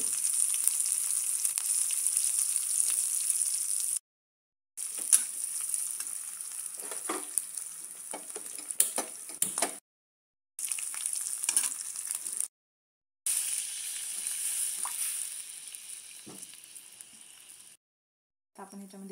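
Green chillies sizzle and crackle steadily in a small amount of hot oil for medu vada batter, a close, continuous frying hiss broken by a few short silent gaps, with no voices.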